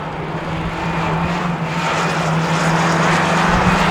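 Autograss race cars on the final lap of a St Neots meeting, a steady loud engine drone with a sustained low tone that holds throughout.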